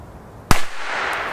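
A vintage 1980s Bo Peep firecracker goes off in one sharp, loud bang, followed by a short rumbling echo and a faint crackle.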